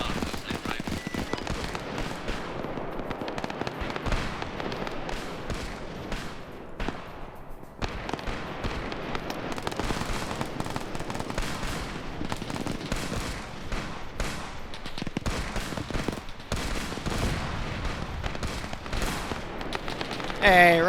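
Anti-aircraft guns in a Korean War combat video game fire at tanks with dense, continuous bursts of rapid gunfire. Battle noise fills the whole stretch, and voices can be heard underneath.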